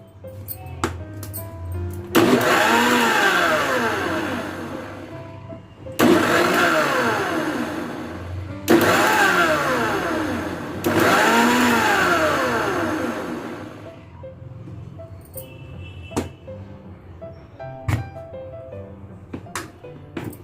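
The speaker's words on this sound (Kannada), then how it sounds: "ಹಾಲು ಹಾಕ್ಕೊಂಡು 1 ನಿಮಿಷ ಗ್ರೈಂಡ್ ಮಾಡ್ಕೊಳ್ಳೋಣ" A mixer grinder blends musk melon and milk in loud, whirring bursts, running in four separate pulses with short pauses between, then falling quiet with faint clinks.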